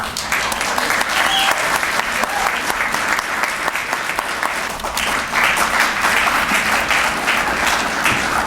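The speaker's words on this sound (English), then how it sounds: "A round of applause for Cindy Dunne." Sustained audience applause fills a hall at a New York City event, dense and loud clapping from a large crowd continuing evenly for over eight seconds without letting up.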